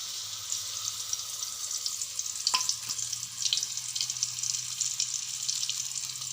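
Potato and pointed gourd pieces frying in mildly hot oil in a wok, a steady moderate sizzle with occasional crackles and a brief clink of a utensil midway.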